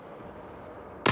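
A single loud shot from a 14 kg sniper rifle in a video game, a sudden broadband crack bursting out right at the end after a stretch of low ambient rumble.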